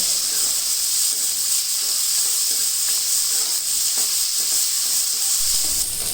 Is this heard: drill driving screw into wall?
no